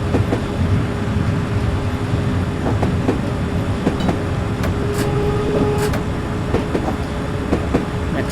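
London Underground S8 stock train on the Circle Line in Train Simulator 2020 rolls along with a constant loud rumble, rhythmic clickety-clack from the wheels and a faint motor hum, with no talk.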